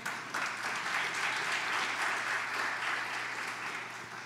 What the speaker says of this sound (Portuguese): Dá um aplauso ao Senhor, amém?